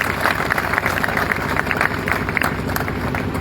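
A crowd at an outdoor rally claps hands, a dense, continuous patter of many hands fairly near, steady and loud for the whole span, with no voices rising above it.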